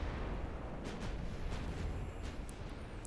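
Heavy 12-inch naval guns fire in a dreadnought-era sea battle, a steady broadband roar of distant rumbling salvos with several sharper bursts spread over a few seconds.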